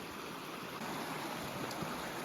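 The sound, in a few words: creek water flowing at a creek crossing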